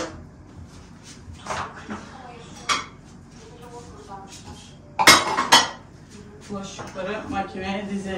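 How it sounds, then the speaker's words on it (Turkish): Dishes and cutlery clink and clatter in bursts as plates are stacked into a dishwasher rack in a home kitchen, with voices talking in the background. "Bulaşıkları makineye dizelim."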